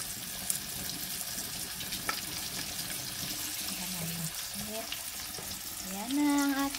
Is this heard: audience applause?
no